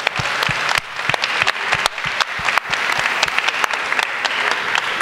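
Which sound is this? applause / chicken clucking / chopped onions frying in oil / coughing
applause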